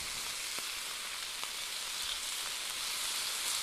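Stir fry sizzling steadily in a hot skillet, a loud, continuous close-up frying hiss with a few faint pops and stirring knocks, no voices.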